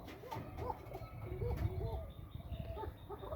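Koka pigeons cooing, a run of soft repeated low coos close by, with short pauses between calls and a steady low background murmur.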